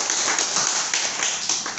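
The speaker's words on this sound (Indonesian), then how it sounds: "Tepuk tangan dulu dong untuk Nagaya." A studio audience claps hands at a cryptocurrency coin presentation, a short, dense burst of applause lasting under two seconds with no talk over it.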